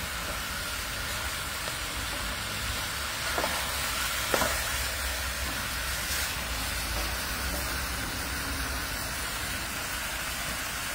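Turkey, kerrila, okra and potatoes stir-fry in a pan, a dense, even sizzle running throughout with a couple of soft scrapes of stirring, close by and without speech.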